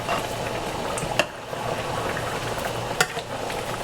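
A pot of Jamaican curried chicken gravy with small potato cubes simmers steadily, a continuous bubbling close by with a couple of faint clinks.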